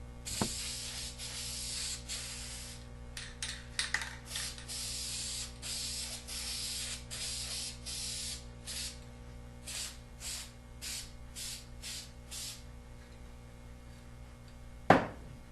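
Aerosol spray can laying down coats of white paint: a rapid series of short, close hissing bursts separated by brief pauses, ending with a sharp clatter.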